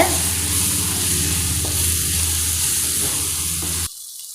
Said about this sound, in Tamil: எல்லாத்தையும் நல்லா வதக்கிக்கோங்க